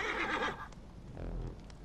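A horse in Assassin's Creed Origins gives a loud, close whinny with a rising, wavering neigh, followed by softer snorting and faint hoof clatter.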